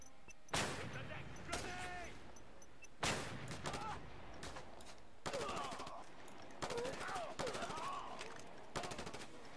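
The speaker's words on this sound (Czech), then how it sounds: "Tady po mně někdo střílí" Repeated bursts of gunfire in the video game Just Cause 2 crack sharply at close range, some rapid like automatic fire, with faint voices and game effects in between.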